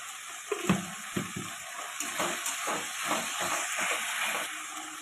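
Ginger-green chili paste and cumin sizzling in a pan as they are sautéed, a steady close hiss with scattered crackles and spits throughout.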